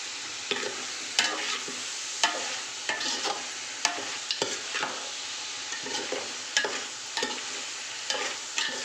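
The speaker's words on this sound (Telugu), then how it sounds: "అన్నీ వేసి బాగా మిక్స్ చేసుకోవాలి ఇట్లా బాగా మిక్స్ చేసుకోవాలి" Chicken pulao ingredients with salt are stirred in a pot: crisp spatula scrapes and knocks repeat about once a second over a steady frying sizzle, close up and with no talking.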